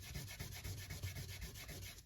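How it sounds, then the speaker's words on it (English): Oozing glue being rubbed off a paper envelope with a big bone folder, quick, soft, rhythmic back-and-forth rubbing strokes, close and faint. "My nice big bone folder. Let's rub off some of that"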